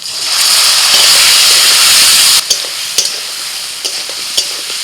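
Potatoes frying with turmeric, Kashmiri chili powder and salt in a pan give a loud, close, steady sizzle that then drops and continues more softly, broken by a few sharp stirring clanks.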